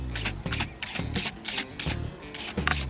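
A brush rhythmically scrubs the blades of a car heater fan motor, about eight quick close rasping strokes in steady succession, with no talk.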